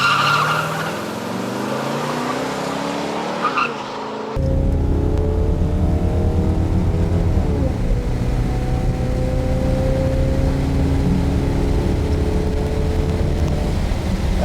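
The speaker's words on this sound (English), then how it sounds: "This was his first chance to see what this muscle car legend would really do on the strip" A totally stock 1970 Chevelle LS6 muscle car idles, then launches hard down a drag strip. The engine roars loudly, and its revs climb in long rising sweeps as it pulls through the gears.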